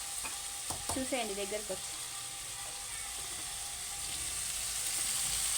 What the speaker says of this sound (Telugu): ఇలా వేగాలి